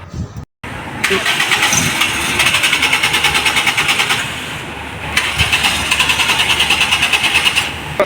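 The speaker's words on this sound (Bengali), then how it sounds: "তো গাড়িটা এখন রান করবে স্টার্ট দিয়ে" A private car's engine cranks briefly, catches and settles into a steady, loud running hum that continues close by for several seconds, with a slight change in pitch partway through.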